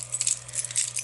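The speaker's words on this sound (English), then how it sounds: "All right, my key ring is huge." A large key ring jangling, bright metallic chinks and rattles in quick uneven bursts over a low steady hum, close and fairly quiet.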